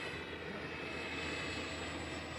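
A Freewing A-4 Skyhawk 80mm electric ducted-fan RC jet flies overhead, a steady, fairly distant whooshing roar that holds even without change.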